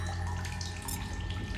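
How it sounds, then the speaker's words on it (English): Fresh water pours and gurgles in a steady, close stream while the player drinks in The Solus Project, a continuous wash with no voices. "drink all the water"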